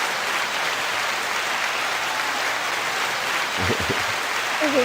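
An audience applauds steadily, a dense, even wash of clapping that greets a co-host at a live show, holding for several seconds before a voice begins to speak near the end.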